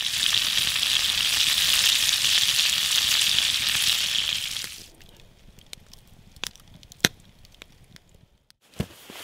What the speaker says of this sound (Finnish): pistetään potuut ja pistetään kalat pannulle ja siitä se lähtee